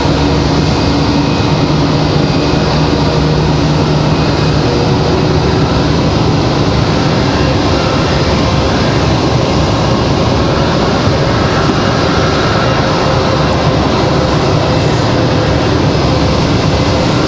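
Airbus A319 airliner taxiing in to the gate at Raleigh-Durham airport, a loud, steady broadband jet engine roar that holds constant throughout with no talk over it.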